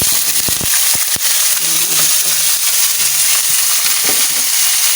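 Paku fern and kangkong greens frying in a pan, with a steady bright sizzle throughout, a few sharp clanks of the utensil early on, and brief low murmurs of talk underneath.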